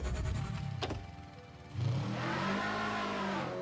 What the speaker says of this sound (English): Start my engine.